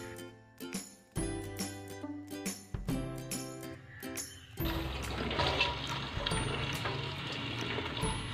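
Kachnar (orchid tree) buds are washed under running water, with clinks and knocks of handling before a steady, loud rush of water pours continuously for the second half, no talk.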